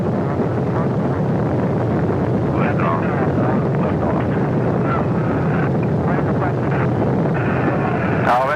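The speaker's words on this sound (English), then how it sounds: "Ignition detected. Roger." Rocket engines igniting at liftoff of an unmanned spacecraft launch in 1967: a loud, continuous broadband roar fills the whole stretch without letting up, with voices talking over it.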